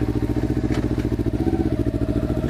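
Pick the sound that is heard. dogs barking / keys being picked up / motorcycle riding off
motorcycle riding off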